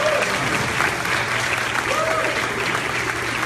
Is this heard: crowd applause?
yes